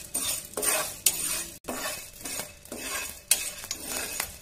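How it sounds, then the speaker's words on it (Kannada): Wheat grains roasting dry in a pan while being stirred, giving a soft rustling scrape and light sizzle with repeated spoon strokes about every half second, close and without talk. "ನೋಡಿ ಗೋಧಿ ಹಾಕೀನಿ, ಗೋಧಿ ಹುರ್ಕೋಕತ್ತೀನಿ."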